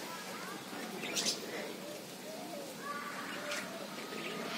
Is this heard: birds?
yes